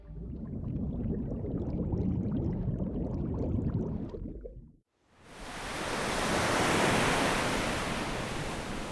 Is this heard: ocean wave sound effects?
yes